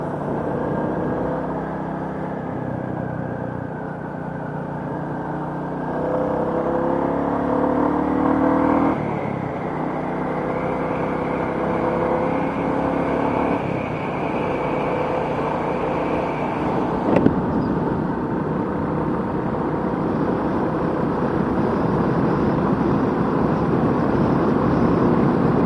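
Royal Enfield Classic 350 single-cylinder motorcycle engine pulling and revving, a steady low drone that rises in pitch in stages as it accelerates, continuous and close, with a brief sharp knock midway.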